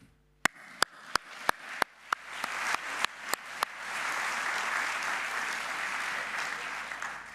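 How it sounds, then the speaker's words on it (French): An audience at an education awards ceremony starts with a few sharp, separate claps that quickly build into steady, full applause, which then holds evenly at moderate distance. "je souhaite que l'on vous applaudisse"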